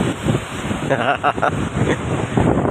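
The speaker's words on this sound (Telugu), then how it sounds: "ఇక్కడ చూస్తుంటే మరి గాలి కూడా చాలా బలంగా వేస్తుందండి" Strong wind buffets the microphone at Machilipatnam beach in cyclone weather, with surf rushing in gusty bursts, loud and close.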